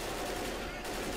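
Continuous rapid gunfire in Left 4 Dead, a dense rattling stream of shots filling the whole moment, with a player's voice partly mixed underneath.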